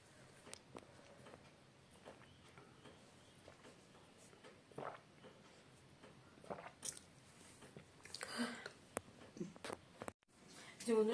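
Someone eating the soft flesh of a green coconut: scattered wet bites and chewing sounds, fairly quiet and close, with someone talking intermittently and a louder rustle near the end.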